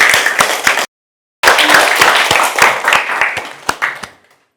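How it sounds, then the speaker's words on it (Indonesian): Children clapping their hands together at a gathering, loud close rhythmic claps that cut off briefly, resume at full strength, then thin out and stop. "Tepuk tangan dong buat kita semua."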